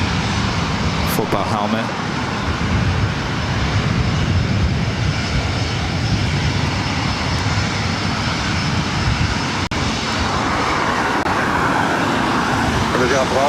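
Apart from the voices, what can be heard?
jet aircraft with Los Angeles Chargers livery taking off at LAX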